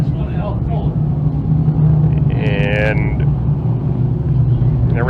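Loud, low rumbling drone of a 358 modified dirt race car engine at a speedway, running steadily with a slight rise in intensity, while a commentator talks over it.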